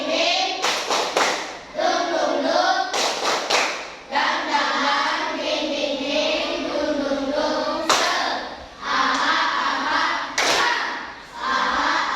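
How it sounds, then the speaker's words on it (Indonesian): Fourth-grade pupils in a classroom perform the 'tepuk semangat' clapping routine: sharp bursts of clapping recur at intervals between sustained stretches of group chanting, all close and loud. "coba tepuk semangat"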